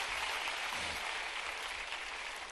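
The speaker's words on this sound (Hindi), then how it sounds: "जी ताली बजाओ सर के लिए, बहुत अच्छी बात है।" An indoor audience at an agricultural innovation dialogue event at Ravindra Bhavan in Bhopal claps together in a steady, sustained burst of applause.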